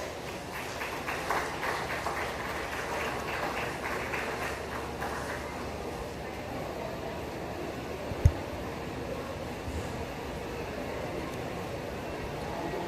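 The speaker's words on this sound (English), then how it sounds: "Give these exhibitors a round of applause." Applause from a livestock show audience for Horned Hereford heifer exhibitors: a dense, steady wash of clapping that thins and fades after about six seconds, leaving a low room murmur and one sharp knock.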